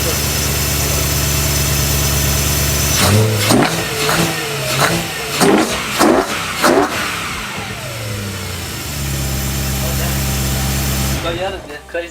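A modified car engine idles with a deep, loud, close rumble, then revs in several sharp successive bursts before settling back to a steady idle; voices are heard over it.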